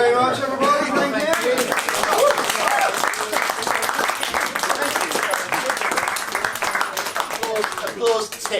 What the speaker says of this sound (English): Applause tick.